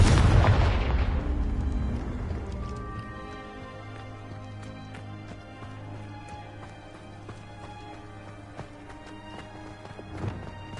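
A Confringo blast in Hogwarts Legacy on PS5 fires at the very start, a loud booming burst that fades into sustained tonal game music and ambience. A smaller crackle rises near the end.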